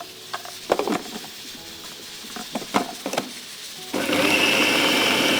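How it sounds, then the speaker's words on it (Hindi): Several knocks and taps sound before an electric chopper switches on and runs with a steady, loud whir, blending a seekh kebab mixture with masala and salt. "इसको मैं अच्छी तरह ब्लेंड करके उतार रही हूँ। जैसे ही इसका मैं चॉपर बंद करूँगी"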